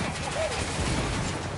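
Dense gunfire during a video game firefight, rapid overlapping shots blurring into a continuous crackling roar, loud and close with a faint voice briefly underneath.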